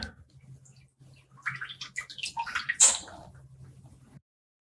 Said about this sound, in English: the pressure just helps to flush out all the ink